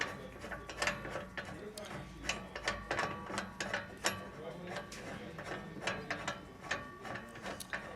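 Leveling legs on an SWF machine stand are screwed up, giving quiet, closely spaced mechanical clicks and ratcheting scrapes in an uneven rhythm.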